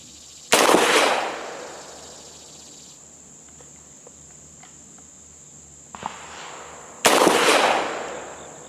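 Two loud, sharp gunshots from a Gforce Jawbone 9mm pistol fired outdoors, about six seconds apart, each with a short ringing decay, with a faint click between them and steady insect buzz in the background.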